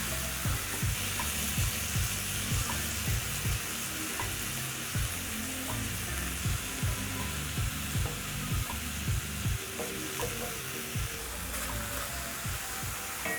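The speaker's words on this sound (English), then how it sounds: "We're going to cook your beef strips for about 2 minutes. And always make sure to toss around so that they can evenly cook." Beef strips fry in a hot pan with a steady loud sizzle. Repeated scraping and tossing clatters run through the sizzle at an irregular rhythm, close up, with no talk.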